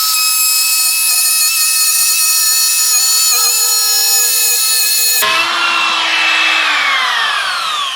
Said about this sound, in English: We got about a 1/2 inch deep groove right here.